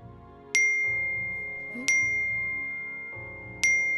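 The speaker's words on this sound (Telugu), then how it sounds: "నీ ఫోన్ కి నోటిఫికేషన్స్ వస్తున్నాయి." Three bright electronic chimes sound a second or two apart, each ringing briefly before fading, over a quiet background hum.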